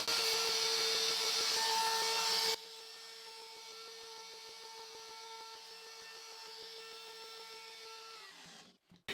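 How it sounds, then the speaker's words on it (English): Plunge router cutting a guitar rosette gives a loud, steady high-pitched whine that drops to a lower, quieter hum as the bit plunges into the cut, then winds down at the end. "Start the router with the bit a little bit off the surface,"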